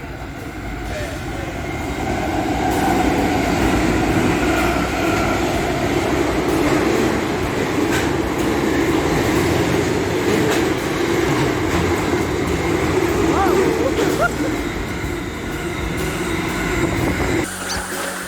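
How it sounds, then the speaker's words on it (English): A fast freight train with four locomotives, about 1.8 kilometres long, thunders past at Serviceton railway station in a steady, loud roar of engines and rolling wagons that lasts throughout, with people talking under it. "No, that's a train."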